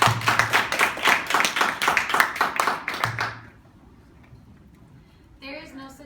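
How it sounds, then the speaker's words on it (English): Applause from an audience, a steady burst of clapping at close range lasting about three seconds, then fading into quiet room noise with a brief voice at the end. "Big round of applause."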